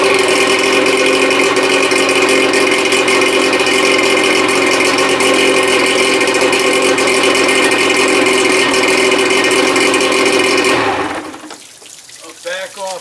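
A 1987 Johnson 40 hp outboard motor running, a loud, steady droning hum with a rattling, watery edge. It holds constant for about eleven seconds, then cuts off abruptly, leaving faint knocks.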